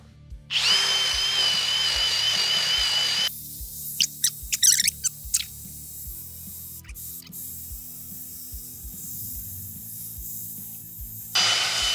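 A power drill spins an eraser in bursts, a whining buzz starting and stopping, with scraping and rubbing noises and clicks in between, close and fairly loud.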